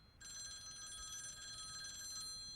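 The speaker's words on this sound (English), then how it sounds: "Somebody get that phone!" A telephone bell rings in a household scene, a bright electronic trill that starts abruptly and holds steadily for over two seconds, heard alone.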